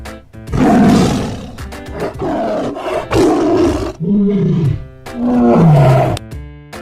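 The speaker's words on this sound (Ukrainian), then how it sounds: "Тигр речить. Рррр." A tiger roars several times in a row, deep rumbling bursts with short pauses between, loud and close, no talking.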